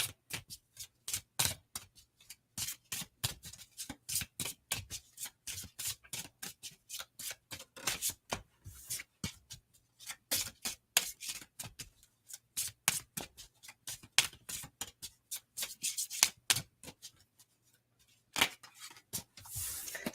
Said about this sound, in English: Sloppy shuffle.